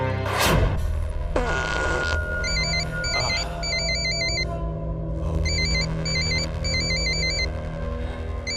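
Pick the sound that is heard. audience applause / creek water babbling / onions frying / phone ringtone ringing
phone ringtone ringing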